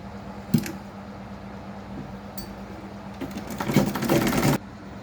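A sewing machine stitches the cloth cover for a Quran, a short burst near the start, then a longer steady run of close, busy mechanical whirring and clatter toward the end.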